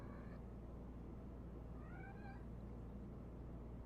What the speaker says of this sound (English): Excuse my cat.